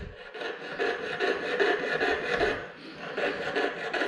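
A saw cuts through 1.5-inch copper stock in a jeweler's workshop, a close, steady rasping rub of repeated strokes with brief dips in rhythm.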